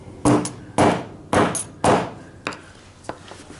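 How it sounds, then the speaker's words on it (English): Hammer tapping a bent motorcycle sprocket washer flat on a Kawasaki ZX14R Ninja: four sharp, close metallic taps at an even pace, then two fainter ones. "I'm just going to tap it flat."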